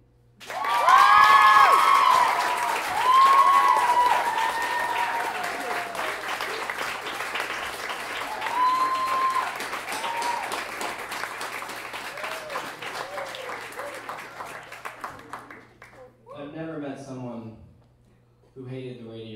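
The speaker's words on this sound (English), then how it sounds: "give her another round of applause" Loud applause from a crowd with cheers and whoops, continuing for a long stretch before fading, followed by someone beginning to talk.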